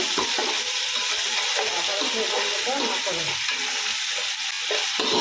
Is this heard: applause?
no